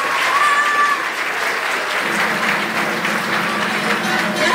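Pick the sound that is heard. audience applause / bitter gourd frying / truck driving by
audience applause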